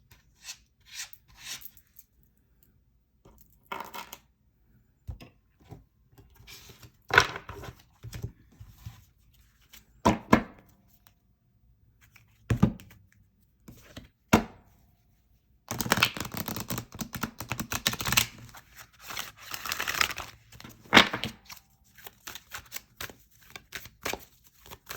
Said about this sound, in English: So let's go ahead and pick a few cards.